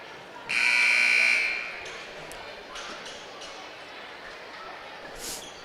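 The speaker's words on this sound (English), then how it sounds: "The buzzers rang." At a boys' and girls' high school basketball game, a loud electronic buzzer sounds for about a second to end the quarter. It rings over faint gym crowd noise, followed by a brief sharp bounce-like ping.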